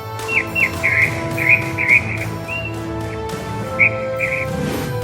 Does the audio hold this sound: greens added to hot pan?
no